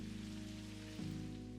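Steady rain falling in the video game Necrobarista, a constant soft wash of drops over a low hum, with a brief dip partway through and no talking.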